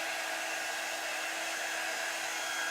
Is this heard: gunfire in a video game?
no